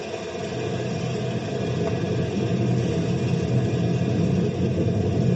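A steady mechanical engine drone rumbles continuously at moderate loudness, with low broadband noise and no voices.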